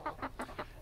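Exchequer Leghorn chickens, five months old, clucking in four quick, short bursts, close and fairly clear.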